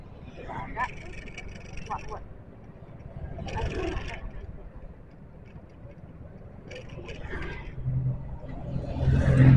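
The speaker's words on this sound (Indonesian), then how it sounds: "Nah, itu mobil ke sana." A car passes along a morning street in Bukittinggi, its engine swelling and fading, with other traffic rumble and people talking nearby.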